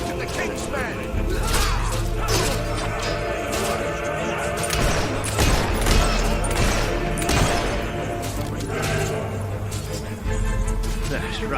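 Rebels unleash sustained gunfire in the video game Fable 3, a dense rattling fusillade of shots with thuds and crashes throughout, while voices shout over the din.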